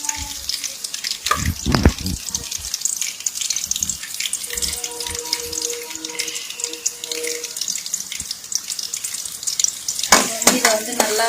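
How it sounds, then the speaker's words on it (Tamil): Ginger and garlic sautéing in a pan give a steady broadband frying hiss throughout, broken by clattery stirring and scraping bursts near the start and end, with no talking. "இதை வந்து நல்லா வந்து வதக்குறோம். ஒரு 5 நிமிஷம் இஞ்சி பூண்டு பச்சை வாசனை போற மாதிரி வதக்குறோம்."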